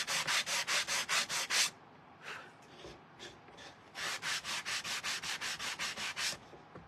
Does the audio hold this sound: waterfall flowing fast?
no